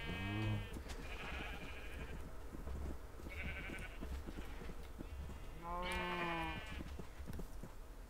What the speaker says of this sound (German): So ein feines Schaf.